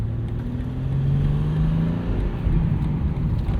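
A 2025 BMW M2, 473 hp with a six-speed manual, cruising on the road in M1 mode, heard from inside as a steady low engine drone with gentle rising revs over road and tyre rumble.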